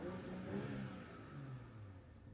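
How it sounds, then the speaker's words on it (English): BMW M340i, the 3-Series M Performance model, with its engine revved briefly while stationary: a steady, fairly loud mid-pitched engine drone that swells a little and eases off, with no talk over it. "he can also rev it up a little bit"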